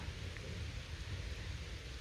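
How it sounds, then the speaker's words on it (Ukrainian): Steady rain falls through a forest during mushroom hunting, a dense, even hiss of drops on leaves and ground with low rumble, continuous and close, no voices. "Дощ йде, я біжу."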